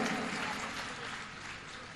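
Dense, steady clapping from a large gathering at a Jain Panchkalyanak Pratishtha festival, a continuous wash of hands for two seconds with no pauses.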